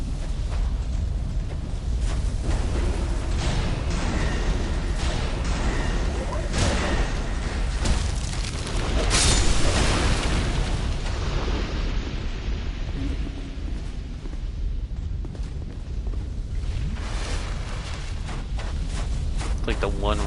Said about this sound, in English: if you go near these things, they explode